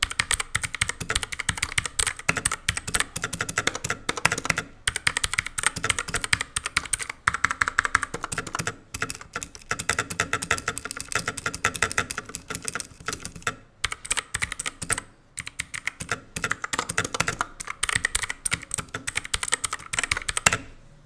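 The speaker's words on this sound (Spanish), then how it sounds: "Nuestro ruido clicky de los azules, una preciosura muy sólido" Rapid, crisp typing on a 60% mechanical keyboard with blue switches, sharp clicky keystrokes, close and continuous, steady bursts with brief pauses.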